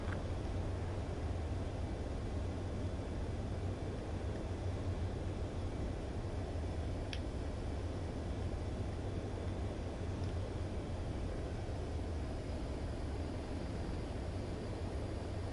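A fighter jet comes in to land on a runway in Ace Combat 7, its engine giving a steady, unbroken roar that holds at one loud level from start to finish.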